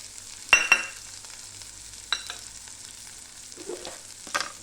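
Potatoes frying in oil in a pan for a potato bhaji, a steady low sizzle broken by a few louder stirring scrapes and crackles, close by with no talking.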